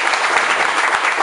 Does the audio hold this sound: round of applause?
yes